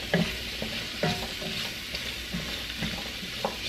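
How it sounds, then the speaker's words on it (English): Kielbasa and white bean soup with celery is stirred in a pot, a spoon scraping and knocking in a few separate strokes over a steady low sizzle, close and moderately loud with no talking. "Stir that together."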